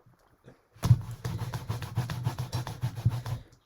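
Rubber stamps scrubbed back and forth on a worn, broken stamp scrub pad, a close rhythmic rasping rub of about a dozen quick strokes after a short quiet start.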